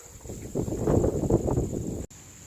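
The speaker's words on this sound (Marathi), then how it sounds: "वाऱ्यानं जोर पकडला आहे" Strong gusts blow outside a roadside dhaba in Kolhapur as clouds gather before a storm, a rough, buffeting rush against the microphone that swells for about a second and a half before it cuts off abruptly.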